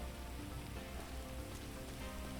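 Rain falls steadily in GTA V, a dense, even hiss of drops on surfaces that runs unbroken and fairly quiet throughout, with no voices.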